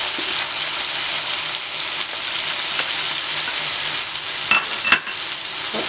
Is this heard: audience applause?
no